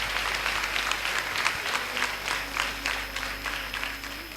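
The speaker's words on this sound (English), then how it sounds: "Give a big round of applause for him." A crowd applauding a national-level chess player at a school event, a dense, sustained wash of clapping over a steady low hum, fairly loud and even.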